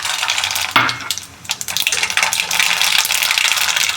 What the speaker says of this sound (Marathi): राई घातलेली आहे